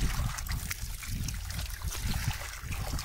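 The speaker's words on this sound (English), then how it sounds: "Rinse them right into your pan, so you don't have to pull the mats" A water hose steadily rinses gold concentrate off sluice mats into a pan, making a continuous close, loud rush and splash of water that runs on without pause.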